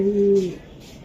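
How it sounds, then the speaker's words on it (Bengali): A racer pigeon gives a single short, close coo that lasts about half a second, then stops, leaving quiet background. "অরিজিনাল রেসার কবুতর"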